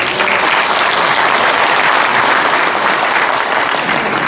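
A large audience at a Korea–US relations book launch claps loudly and continuously to welcome a guest, forming a dense, sustained wall of applause throughout.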